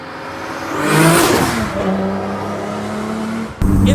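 A 700 bhp Nissan Skyline R33 roars hard under acceleration, its engine note swelling loudly and climbing in pitch, then easing before a sharp shift near the end.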